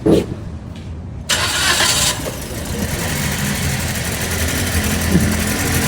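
A Toyota Vios Dual VVT-i engine cranks briefly, catches, and settles into a loud, rough, uneven misfiring idle that stutters and sputters continuously.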